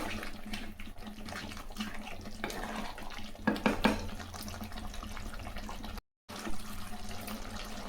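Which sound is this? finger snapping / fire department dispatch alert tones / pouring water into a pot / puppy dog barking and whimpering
pouring water into a pot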